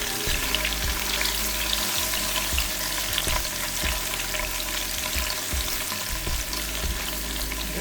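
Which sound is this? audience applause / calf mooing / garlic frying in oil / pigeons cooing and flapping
garlic frying in oil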